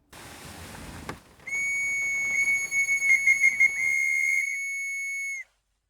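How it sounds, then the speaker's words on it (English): A handmade wooden whistle blown in one sustained, clear, high-pitched tone lasting about four seconds, loud and close, with a slight wavering partway through before cutting off. "We're making a wooden whistle"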